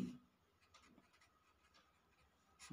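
Chalk or marker scratching on a board in short, soft strokes, faint and intermittent, with a louder scrape at the very start and end.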